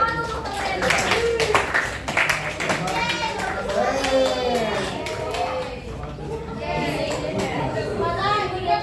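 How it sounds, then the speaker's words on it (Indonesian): A class of students claps for a classmate, scattered hand claps mixed with lively children's chatter and voices rising over the top. "Tepuk tangan untuk temen."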